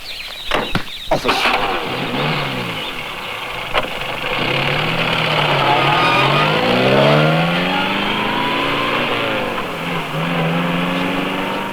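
A car driven into a forest: a few sharp knocks open onto a steady engine drone that revs up and down in wavering pitch, close and continuous throughout.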